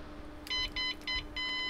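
OBD scanner in the Car Mechanic Simulator 2014 video game gives four short electronic beeps in quick succession, clean and tonal over a quiet low hum, with no voices.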